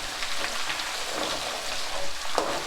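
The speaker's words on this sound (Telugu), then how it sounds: "దీంట్లో ఇవి అల్లం 4 స్పూన్ల అల్లం వేసుకొని దీన్ని వేయించుకోవాలి" Four spoons of ginger fry in a pan of hot oil for a chicken pickle, giving a dense, steady sizzle with a few faint clicks of stirring, close and alone.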